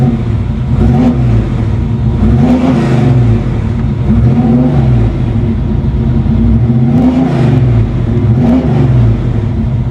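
Car engine idling steadily after an idle-speed adjustment on a project car with performance modifications, a loud, close, continuous rumble with slight rhythmic swells and no talking.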